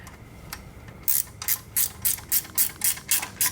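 A ratchet with a 15 mm socket loosens an oil pan bolt on a cheap twin-turbo police car: after a second of quiet, about nine evenly spaced metallic clicks ring out close by.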